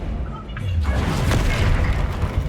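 A spell cast in the Hogwarts Legacy video game gives a loud, sustained, booming magical whoosh that swells after a brief quieter start and holds steady, dense and rumbling throughout.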